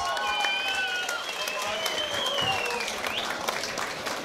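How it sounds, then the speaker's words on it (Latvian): A crowd at a fight night, a boxing and MMA event, breaks into loud sustained applause with cheers and whistles, while an announcer's voice rings over the noise. "Iedodam vēlreiz ovācijas."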